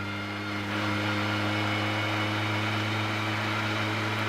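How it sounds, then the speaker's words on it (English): Car engine recorded on its own with no exhaust note, a steady mid-low mechanical hum with strong tonal harmonics, close and continuous throughout with no talk. "Here's engine by itself."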